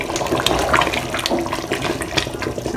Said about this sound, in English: see that bubbling sound?